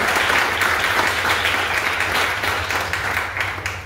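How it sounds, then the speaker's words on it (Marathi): A live audience claps at a Marathi history lecture on Afzal Khan and Shivaji Maharaj: dense, steady applause from many hands that fills the room and slowly fades toward the end, with no voices. "टाळ्यांचा कडकडाट आपण केला पाहिजे"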